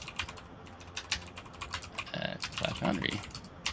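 Quick bursts of computer keyboard typing clatter close by during an online tech talk show, with a voice speaking briefly over the keys.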